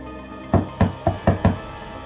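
Five firm knocks on a door in a tense crime-drama scene, evenly spaced and close, with no voices over them.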